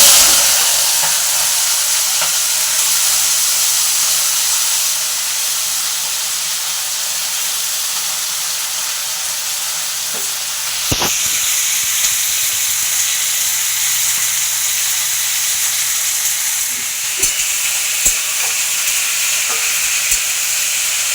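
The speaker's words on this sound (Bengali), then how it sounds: "আমার কড়াইয়ে দেখুন তেল এসে গেছে, যেটা পাঁচ ফোড়ন লঙ্কা দিয়েছি একদম ভাজা হয়ে গেছে" Dried red chillies and panch phoron fry in hot oil in a kadai, giving a loud, constant close-up sizzling hiss that shifts slightly when stirred, with a couple of brief clinks and no talking.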